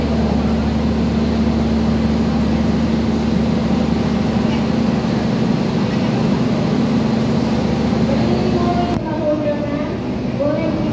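The Argo Bromo Anggrek passenger train at a crowded station platform gives a continuous low rumble and hum under murmuring voices, which drops away abruptly near the end.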